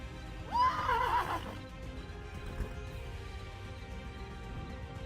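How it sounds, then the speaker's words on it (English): A steppe horse in the video game Mortal Online 2 gives a single clear, rising whinny at close range, followed by a faint, quiet in-game background. "Actually, there's a steppe horse over there."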